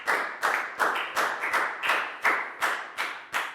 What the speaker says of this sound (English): Big round of applause for Pat Boone, please, guys.